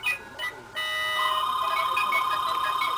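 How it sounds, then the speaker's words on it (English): A telephone rings with a steady electronic tone, starting after a few short blips and holding as one continuous, moderately loud ring. "And like clockwork, the phone rings."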